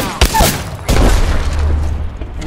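Gunfire in Apex Legends, with two sharp loud shots close together followed by a booming rumble and a sustained low roar.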